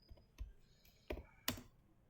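A computer keyboard is tapped a few times in quick, irregular succession, soft clicks ending in a sharper final keystroke like an Enter press, heard close and quiet while entering a drafting command in AutoCAD.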